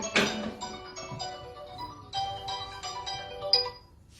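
A mobile phone ringtone plays a melodic electronic tune of bright repeating notes, moderately loud and alone with no talk over it.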